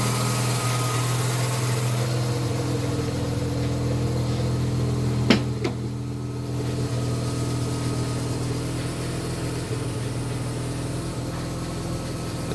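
Steady idle of a Mazda RX-7 FC with a naturally aspirated street-ported rotary engine, a continuous close drone with a sharp brief click or knock around the middle, no voices.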